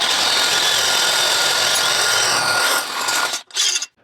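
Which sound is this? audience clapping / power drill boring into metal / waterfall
power drill boring into metal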